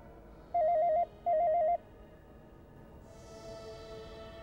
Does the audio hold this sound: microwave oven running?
no